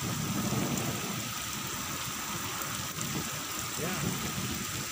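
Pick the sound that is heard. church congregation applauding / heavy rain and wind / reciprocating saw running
heavy rain and wind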